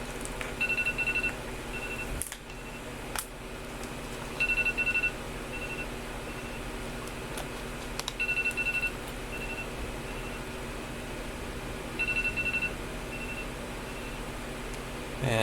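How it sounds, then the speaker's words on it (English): An alarm beeping in the background during a Subnautica game session, short bursts of faint high beeps repeating about every four seconds over a steady hum. "Pardon the alarm in the background."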